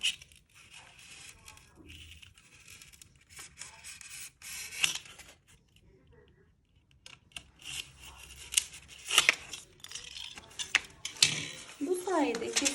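Styrofoam foam wall moulding is cut diagonally by hand, giving intermittent scraping, squeaky cutting strokes at close range, with a person talking between the cuts.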